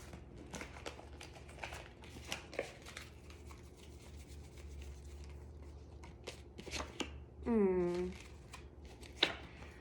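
Tarot cards are shuffled and drawn with quick riffling flutters and soft slaps of cardstock close by. The bursts are uneven, and a brief high tonal sound rises near the end.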